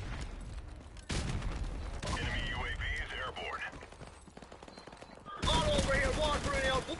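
Rapid bursts of light machine gun fire in a video game, loud and close, stopping and starting in several long strings with gaps between them, mechanical clatter mixed in, and voices talking over parts of it.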